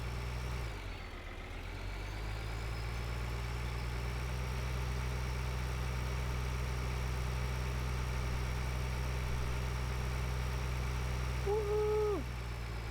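Tractor engine in Farming Simulator 2013, a steady low droning hum with a faint rise in pitch, held evenly throughout with a brief higher tonal sweep near the end.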